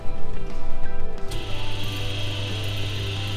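A lathe turns down a spacer for a 1934 Plymouth rally car, giving a steady mechanical whir and hum, loud and close, that shifts to a smoother higher cutting tone partway through.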